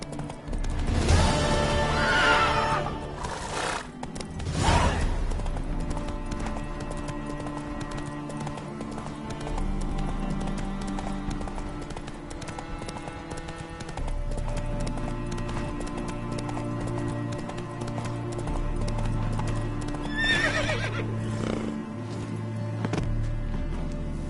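Roach, a horse in The Witcher 3 video game, gallops with a steady clip-clop of hooves and lets out loud whinnying neighs, among game music and background effects.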